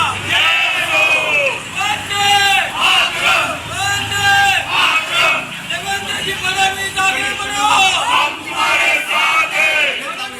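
BJP party workers in Ratnagiri city, celebrating on the road outside the BJP office, shout slogans in loud rhythmic unison. Repeated chanted bursts rise and fall close by, with crowd noise in between.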